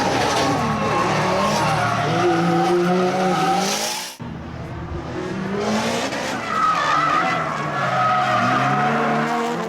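Drift cars slide around a track with several cars running at once, tires squealing loudly in long, wavering screeches mixed with engine roar and a brief break midway.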